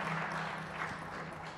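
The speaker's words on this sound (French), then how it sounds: "on vous applaudit pour cette plongée au Niger" Audience applause at the close of a talk in a French academic session, a steady wash of clapping filling the whole stretch at moderate loudness with a faint low hum beneath.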